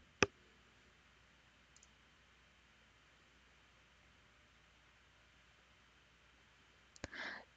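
Computer mouse clicks in software: a single sharp click at the start, then near silence with faint hiss, and a few more quick clicks near the end.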